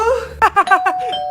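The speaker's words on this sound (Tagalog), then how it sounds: "May nag-doorbell?" A two-tone electronic doorbell chimes several times in quick succession, fairly close, with a lingering tone at the end and no talking.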